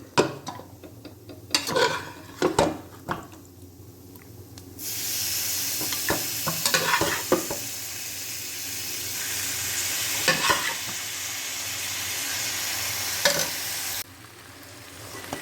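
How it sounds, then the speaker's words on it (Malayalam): Pork frying in a pan with onions while a spoon stirs it, a steady hiss of sizzling fat broken by repeated scraping knocks against the pan and a short gap in the sizzle near the start. "പോർക്കിറച്ചി ഇട്ടിട്ട് ഇതുപോലെ നമ്മൾ ഇളക്കി എടുത്തിട്ടുണ്ട്"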